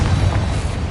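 A Confringo fire-blast spell explosion in the Hogwarts Legacy video game gives a dense, loud, low rumbling boom that sustains through the whole second without a clear break.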